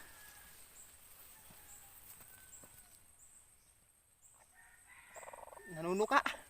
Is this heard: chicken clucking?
yes